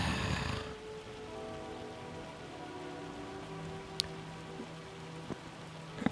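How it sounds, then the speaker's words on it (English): Steady rain falling on surfaces in the farming game Farming Simulator 25, a continuous soft patter heard alone with a couple of brief sharper ticks near the end. "Well, rain started."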